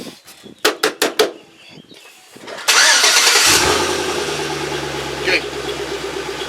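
A car engine cranks with a few sharp clicks, then catches and roars loudly before settling into a steady, rumbling idle close by; a voice says a brief word near the start.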